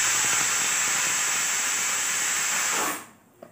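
A pressure cooker cooking dal lets out a loud, steady hissing whistle of escaping steam for about three seconds, then it cuts off abruptly into quiet.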